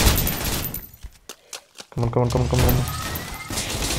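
A turret opens fire in the video game Snowbreak: Containment Zone, a dense rattling burst of rapid shots followed by a sharp run of repeated impacts, loud and close, with a player's brief voice over it.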